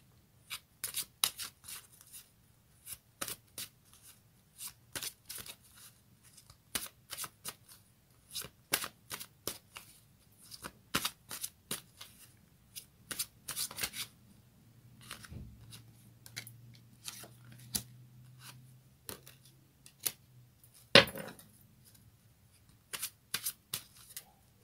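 A tarot card deck being shuffled and handled, giving a long run of quick, crisp card riffles and snaps in irregular bursts, close and fairly quiet over a low background hum, no talking.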